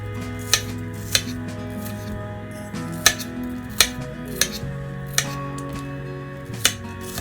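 A small knife chops guacamole ingredients in a kitchen, giving sparse, sharp taps on a board about once every half second to a second, close and clear over a faint background hum.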